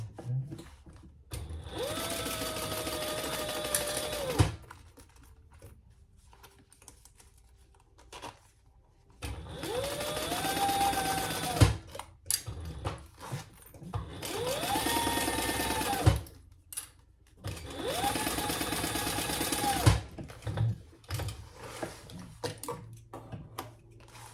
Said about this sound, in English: I'm just basting that in place